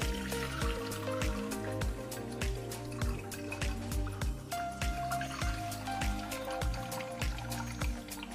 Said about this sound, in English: we're going to pour it carefully into this cheesecloth